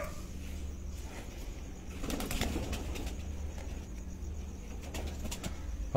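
Lakha performer pigeons in a breeder's loft coo faintly while a short burst of wing flapping rises near the middle, all fairly quiet over a steady low background.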